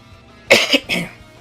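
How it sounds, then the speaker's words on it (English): A man coughs close to the microphone, two or three sharp, rough bursts in quick succession that are loud against an otherwise quiet room. "Oh no, I'm getting a cough right now."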